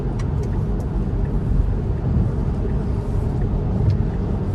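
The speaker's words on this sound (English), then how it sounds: "It is much more aggressive at accelerating onto the highway now." Tesla car accelerating hard up a highway on-ramp, heard from inside as a steady low road rumble and drivetrain hum with tyre noise, continuous and fairly loud throughout, with no talking.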